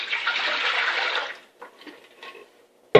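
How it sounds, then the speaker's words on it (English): Warm sugar water, six cups at 110 degrees, poured into a bowl in a steady splashing stream for about a second and a half, followed by a few faint drips and a sharp knock at the end. "I'm going to pour all that into a bowl."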